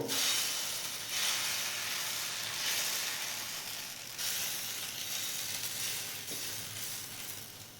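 Batter for thin chakli pitha sizzles steadily on a hot pan as it is spread out, a broad continuous frying hiss that swells and eases in waves.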